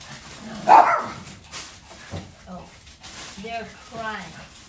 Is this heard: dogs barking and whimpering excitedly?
yes